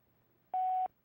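A single steady telephone keypad tone, one DTMF beep of about a third of a second, sounds clearly and close against quiet background hiss as a phone number is dialed.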